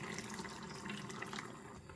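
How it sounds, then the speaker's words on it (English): Water poured steadily into a simmering fish curry, a continuous soft splashing and trickling that holds at an even level for about two seconds without interruption. "Add 1 cup of water."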